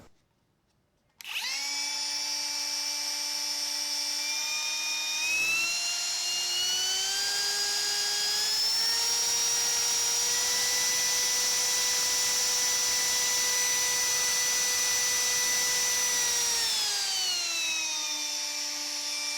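A RIDGID OCTANE cordless router's small high-pitched motor whines up to speed and holds a steady, loud hum, its pitch rising slightly midway, then winds down at the end.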